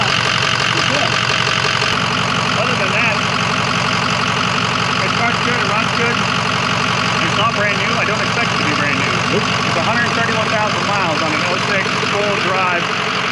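The 6.0L diesel engine of a 2006 Ford F550 rollback tow truck runs at a steady idle with a rough, continuous clatter close by, while people talk over it.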